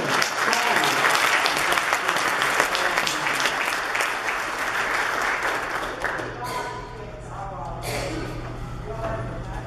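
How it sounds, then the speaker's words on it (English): A church congregation applauds steadily and loudly, the clapping fading somewhat toward the end, with a low hum running underneath. "we need to give them a round of applause today"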